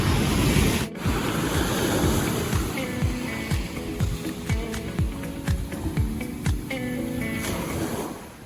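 Waves at Governor's Beach on Seven Mile Beach, Grand Cayman, washing steadily onto the shore under gusty wind rumble, with scattered light clicks and rustles close to the microphone.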